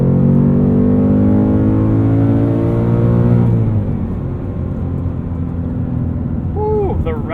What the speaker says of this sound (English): Plenty of power from this 5-liter Coyote V8.